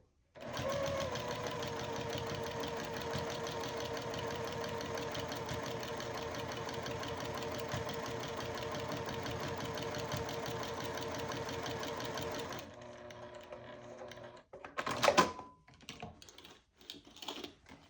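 A sewing machine quilts a Halloween mug rug, the presser foot guided along a seam, running in one steady, close hum for about twelve seconds before stopping, followed by a few clicks and handling taps.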